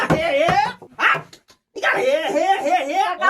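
A dog in a village barks and yelps near the listener, producing several sharp, tonal calls with a brief pause, and no separate speech is present.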